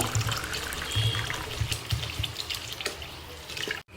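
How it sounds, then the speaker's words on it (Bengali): Water pours steadily into a cooking pot of ridge gourd curry being prepared with catla fish, a continuous close splashing stream that runs for a few seconds and then cuts off abruptly. "তো এবার আমি আর একটু জল দিয়ে দেবো"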